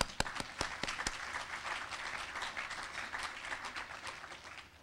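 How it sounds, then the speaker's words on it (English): Applause from the audience at a university nursing program induction ceremony, a steady wash of many hands clapping at moderate distance, with a few sharp individual claps standing out at the start before it settles into even, sustained clapping. "Let's give them a hand of applause."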